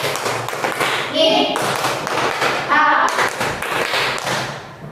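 A class claps together in a classroom, loud, close hand claps and thumps in uneven bursts, mixed with children's voices and some talk.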